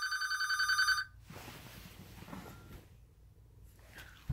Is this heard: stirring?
no